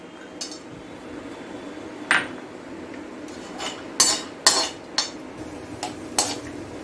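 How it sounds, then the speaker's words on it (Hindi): Cashews being roasted in ghee in a kadhai: sharp metallic clinks and scrapes of a spoon against the pan come in scattered irregular hits over a quiet, low background sizzle, fairly close and with no talking. "चलिए अब हम कढ़ाई में डालेंगे थोड़ा घी और काजू को हल्का रोस्ट करेंगे।"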